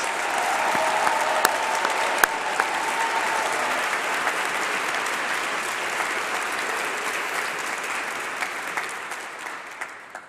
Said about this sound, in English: let's give all of the graduating class another round of applause